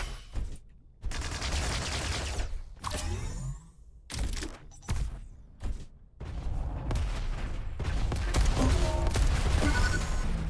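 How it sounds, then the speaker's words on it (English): Rockets fire in a close-range video game duel, sounding as a rapid series of sharp blasts and booms with brief gaps between bursts and heavier explosions near the end. "What a series of rockets, and it's 2-2, and he killed him just before red comes up."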